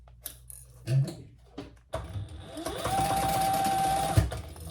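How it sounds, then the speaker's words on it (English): A sewing machine stitches the seam of a canvas-style messenger bag, running steadily for a couple of seconds after some brief handling knocks, close and moderately loud. "Now let's sew that together at the seam allowance in the pattern."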